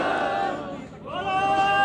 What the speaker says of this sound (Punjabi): ਜੈਕਾਰੇ ਗੂੰਜ ਰਹੇ ਨੇ ਬੋਲੇ ਸੋ ਨਿਹਾਲ ਦੇ, ਬੋਲੇ ਸੋ ਨਿਹਾਲ ਦੇ